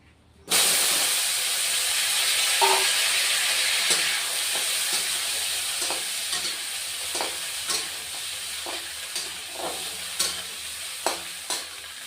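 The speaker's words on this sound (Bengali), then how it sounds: "কড়াই বসিয়ে দিয়েছি তেলও দিয়ে দিয়েছি আলুটা ভেজে নিব" Potatoes frying in hot oil in a kadai: a loud, steady sizzle bursts in suddenly and keeps going, broken by regular spatula scrapes and clinks against the pan as the pieces are stirred.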